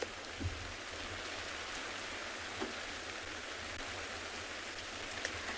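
Heavy rain keeps coming down on a safari vehicle's rain roof and covers, a dense, even hiss of drops with occasional louder drips falling from the edges, heard up close and with no talking.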